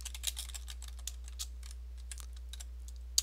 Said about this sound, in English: Next, I'll type a dot.